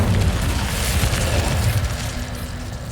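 Incendio fire spell cast in Hogwarts Legacy, a dense roaring burst of flame that fills the whole stretch with a loud, steady rumbling whoosh, fading slightly toward the end, with no talk over it.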